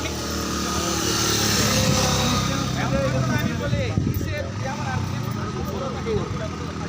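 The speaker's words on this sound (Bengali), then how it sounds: "এক এক করে সব বাইকগুলো আস্তে আস্তে উঠতেছে" Several motorbikes climb slowly one after another up a steep hill road, their engines droning steadily and loudly, with voices talking over the noise.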